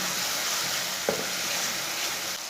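Tomatoes and green chillies fry in a pan with a steady, close hiss of sizzling oil. A single light clink sounds midway and no one speaks.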